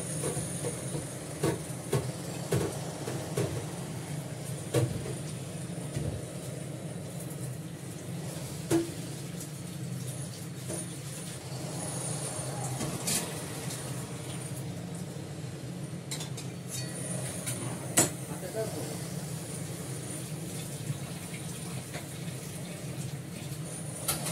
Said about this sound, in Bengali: কড়াটা ভালো করে সাবান দিয়ে ধুয়ে নিয়ে